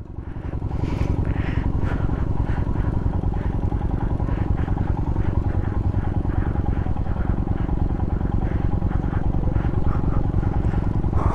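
A Royal Enfield Himalayan motorcycle rides through snowy winter terrain in Spiti between Langza and Kaza. A steady, close, low single-cylinder thump throbs continuously for the whole stretch, with rattling and wind noise layered on top.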